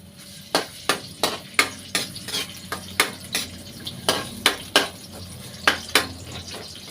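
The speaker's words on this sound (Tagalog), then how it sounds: "Gisa-gisa lang. Unahin ko lang yung luya." Ginger sizzling in hot cooking oil in a pan for squid adobo with banana blossom, with a steady frying hiss under repeated sharp clanks of a utensil stirring against the pan, close and fairly loud.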